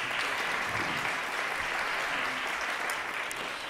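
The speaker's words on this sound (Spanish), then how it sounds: "Vamos a brindarle un aplauso antes de presentar su semblanza" Conference attendees applaud a speaker being introduced at a talk on climate change and viticulture, a full, even round of clapping that carries steadily from start to finish without speech.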